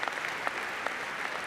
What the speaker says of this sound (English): Actually, I'm clapping for the computer scientists and the computer software.